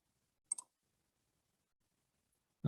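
A computer mouse gives one quick double click, crisp and fairly faint, in an otherwise silent room.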